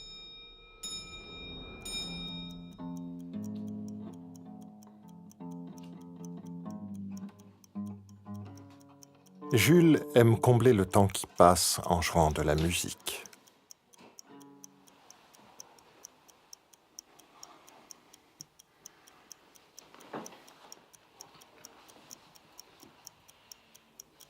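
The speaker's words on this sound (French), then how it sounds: "tout ce qu'il entend, c'est le tic-tac infernal de cette horloge au-dessus de lui" Steady clock ticking runs through most of the scene, faint and regular, alongside bursts of music and a loud clattering passage midway, with someone speaking briefly at the start.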